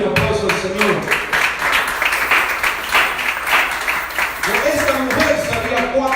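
A church congregation applauds during a sermon: sustained clapping from many people runs under a preacher's voice talking throughout.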